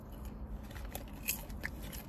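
Kettle corn is crunched and chewed up close at a baseball game, giving steady crisp crackles and bites under faint background bustle, with no talk.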